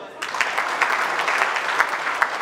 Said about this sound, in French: Et cela s'applaudit.